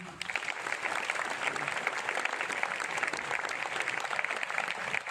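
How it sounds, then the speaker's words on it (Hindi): An audience at a meeting gives steady, enthusiastic applause: continuous dense clapping from many hands across the whole stretch, with faint voices underneath. "उनके लिए आप लोगों की तरफ से जोरदार तालियां"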